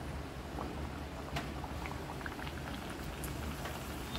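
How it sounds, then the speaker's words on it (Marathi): Moong dal atta mathri deep frying in hot oil over a low flame, giving a steady, dense bubbling fizz with faint scattered pops throughout. "मंद आचेवरतीच मी ह्याला तळून घेणार"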